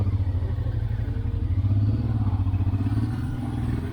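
A motorcycle climbs uphill on an Alpine road toward Col de Sommelier at about 3000 meters. Its engine holds a steady, close, throbbing low rumble with faint clatter and no talking.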